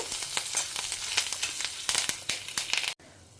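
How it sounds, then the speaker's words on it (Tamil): Curry leaves and chillies frying in hot oil, a brief close crackling sizzle with sharp pops and stirring that cuts off abruptly near the end. "கருவேப்பிலை, பேடிகை சில்லி, மிளகா நல்லா வாசனை வர வரைக்கும் பொரிச்சிக்கோங்க"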